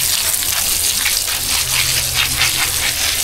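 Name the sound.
water gushing while watering a papaya tree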